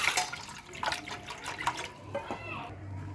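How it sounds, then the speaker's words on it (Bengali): Warm water is poured into a container for a home foot soak, a splashing, gurgling stream with brief drips that fills the short stretch. "তা আমি এখানে নিয়ে নিলাম কিছুটা উষ্ণ গরম জল।"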